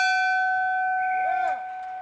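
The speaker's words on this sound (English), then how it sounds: "the climbers rang that bell you just heard, calling out the names of each of those fallen firefighters" A bell rung by stair climbers at a 9/11 firefighter memorial rings out with a clear, sustained tone, then a second strike brings a brief shimmering cluster of overtones before the ringing settles and decays.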